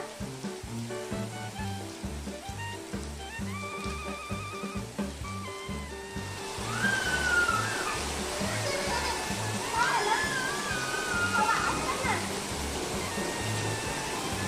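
Rainwater rushes and splashes in a steady hiss that grows fuller partway through, with a rhythmic low pattern and voices in the background.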